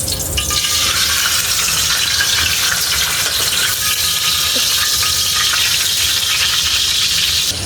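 Loud, continuous sizzling and crackling of dried salted milkfish (daing na bangus) frying in hot oil in a pan, close up and steady throughout.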